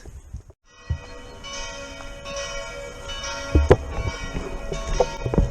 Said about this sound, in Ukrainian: підійшли до костела, і тут дзвони